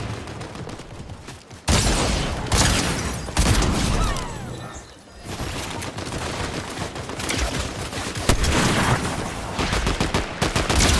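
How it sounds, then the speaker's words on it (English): Gatekeeper shotgun blasts in a rare-weapons battle pass match, loud repeated booming shots in dense bursts from about two seconds on, with chaotic combat noise filling the whole stretch. "I'm loving this new gatekeeper shotgun though."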